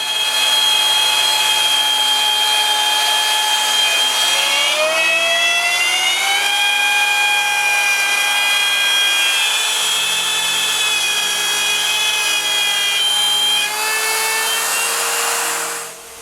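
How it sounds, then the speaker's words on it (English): A router fitted with a 1/4 inch spiral bit cuts circles in wood on a jig for a shoe rack, a loud steady high whine held continuously whose pitch dips and shifts as the bit bites, then fades out. "Then with a 1/4 inch spiral router bit,"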